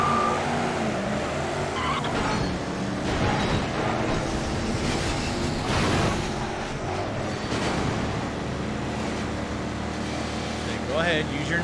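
A race car engine in the PS2 game Midnight Club 3: DUB Edition Remix roars steadily throughout, mixed with tire noise and game sounds, while people talk over it.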